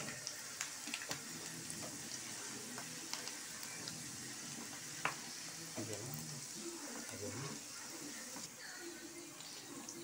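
Dried red chillies, mustard seeds and cumin fry in oil with a low, continuous sizzle and occasional small pops and ticks, faint under background noise, while a voice talks intermittently.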